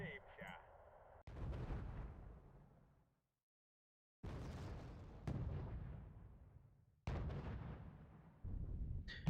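Mortar fire in Wargame: Red Dragon, several heavy booming impacts with rumbling decays, separated by a brief silence, fairly quiet overall.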